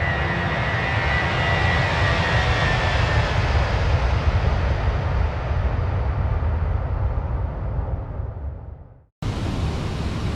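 Airbus A320 engines in a flight simulator game, heard from the cockpit on approach: a steady, loud broadband roar and hum that fades out near the end, cuts to silence briefly, then resumes.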